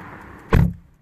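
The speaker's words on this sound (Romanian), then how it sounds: "Geamul s-a ridicat." A short mechanical whir as a BMW i8 window rises, then a solid thump as the car door shuts close by, with quiet cabin ambience around it.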